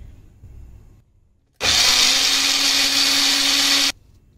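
An electric blender whirs banana, nuts and milk into a shake in one loud, steady burst of about two seconds, starting and stopping abruptly, with quiet room sound before and after.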